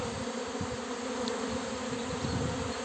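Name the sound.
swarm of honey bees buzzing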